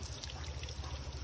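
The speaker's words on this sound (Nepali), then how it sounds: "म पानी हाल्छु ल अब ल।" Water poured over a small child during a bath at home, a steady low splashing trickle that runs continuously and fairly quietly, with no voices.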